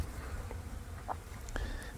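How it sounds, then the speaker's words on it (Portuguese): Flies buzz around cattle in a farm corral, a dense continuous droning hum with a few louder passes close by, no talking. "Aqui no curral tem mais mosca do que lá no mato ainda, lá no pasto, né?"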